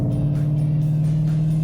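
A Ford Mustang GT350 or GT500 engine drones loud and steady from inside the car, a deep continuous hum with no break or talk, as the transmission drops gears.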